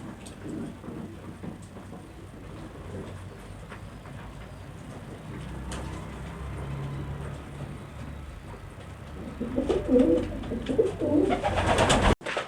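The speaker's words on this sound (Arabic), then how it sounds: "حمام عطشان 12 ساعه من امبارح المغرب للنهارده الصبح" Thirsty pigeons, without water for twelve hours, coo repeatedly nearby over a low, steady rumble, with a rustle of wings toward the end.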